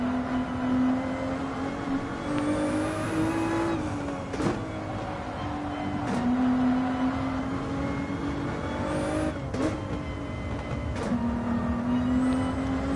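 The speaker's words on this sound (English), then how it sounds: "Just listen to these tires." Race car tires on the Nürburgring during a 24-hour endurance race, a steady loud engine drone with a tonal hum and squeal, broken by several brief sharp transients as the car works through the corners, no talk.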